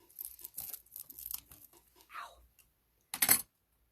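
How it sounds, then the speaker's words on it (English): Scissors or shears snip through wreath-making material in a few quick cuts and rustles, ending with one louder crisp cut, close up with no talking. "So I'm going to cut right there. So let me cut that real quick."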